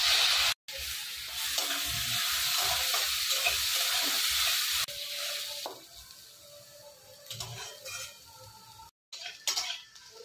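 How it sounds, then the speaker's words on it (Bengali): Carrots sizzle loudly in hot oil in a kadai already used for frying beans, with a continuous crackling hiss and scraping stirs. The sizzle drops to a quieter simmer partway through, with brief cut-outs. "এবার ওই তেলে গাজরগুলো ছেড়ে দেবো"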